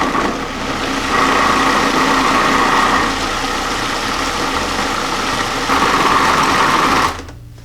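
A food processor blends healthy chocolate ganache with a steady, loud motor whir and a buzzing blade that rises and dips slightly before cutting off at the end.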